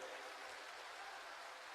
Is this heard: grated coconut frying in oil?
no